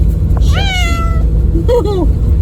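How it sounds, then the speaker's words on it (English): An upset cat meows twice during household packing on moving day, first a long drawn-out cry and then a shorter wavering one, close and clear over a low steady rumble. "She's a mad kitty."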